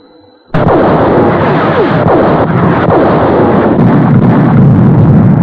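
A sudden loud blast opens a sustained roar of heavy field artillery fire, with repeated booms and rumbling continuing strongly to the end.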